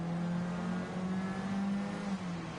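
Stock cars in a CASCAR Cup Series race at the Suzuka Grand Prix circuit in Gran Turismo 7, several engines droning close together in a steady, loud, continuous roar with a slight pitch shift partway through.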